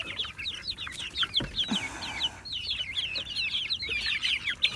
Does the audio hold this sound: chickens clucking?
yes